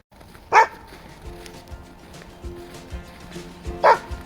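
A pet dog gives two short barks on command at home, one near the start and one near the end, with a quiet room and faint murmuring between.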